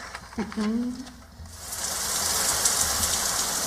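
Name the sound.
rain sound effect in a radio drama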